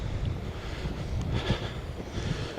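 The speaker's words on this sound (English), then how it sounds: "It's a bit windy today though" Gusty wind in Tenerife buffets the microphone with a low, rumbling roar that rises and falls throughout.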